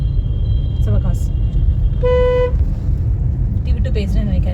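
Road traffic heard from a moving vehicle on the Madurai to Sivakasi road, with a steady low engine and road rumble throughout and one clear car horn toot near the middle, plus fainter honks farther off.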